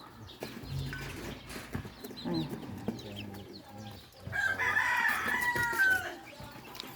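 Chickens at a backyard coop with chicks: soft clucking and scratching, then a rooster's drawn-out crow rising clearly near the end, with faint background noise and a little distant human voice.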